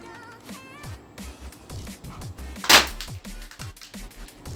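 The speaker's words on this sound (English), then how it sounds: "I'm going to shoot to the curtain here" A PUBG-style AK47 toy airsoft rifle fires one sharp, loud shot into a curtain indoors, a single crisp crack standing out midway through, amid quieter handling clatter.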